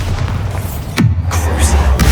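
A Bombarda spell detonating in Hogwarts Legacy, a loud booming blast with a sharp hit and heavy low rumble over constant game ambience.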